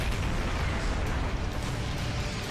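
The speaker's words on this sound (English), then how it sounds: "Explosions are loud." A rumbling blast from an explosion in the video game StarCraft II, a dense, steady roar with no voices.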